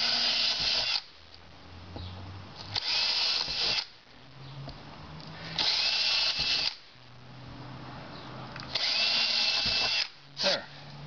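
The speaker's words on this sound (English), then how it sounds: "Just drilling pilot holes before I take it to the drill press." A handheld drill bores pilot holes in a wooden game board in four separate bursts, each a loud high whine lasting about a second or two, with quieter handling noises in the gaps.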